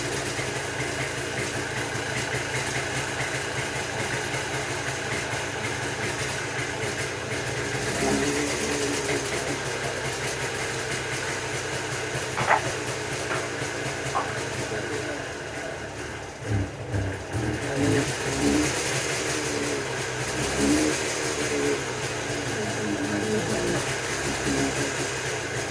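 A restored Jawa 350 barn-find motorcycle engine runs at idle, a steady close mechanical chug with faint rattles, briefly revving and surging unevenly midway before settling back.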